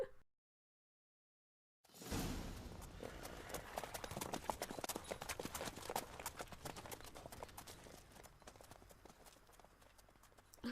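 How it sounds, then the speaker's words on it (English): Horse hooves clip-clop in The Witcher 3: Wild Hunt, a steady run of sharp, fairly close hoofbeats that starts after a brief silence and continues over faint ambient game sound. "Why are the horses like walking really weirdly?"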